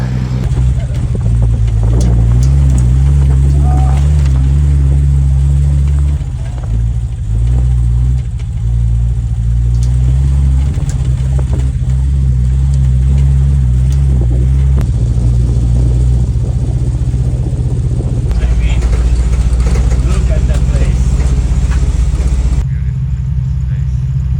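An old Russian SUV fords a wide river, its engine droning in a loud, steady low rumble with surges of revving and splashing water, and a few words spoken along the way.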